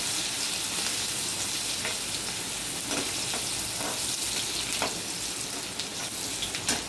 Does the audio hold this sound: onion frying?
yes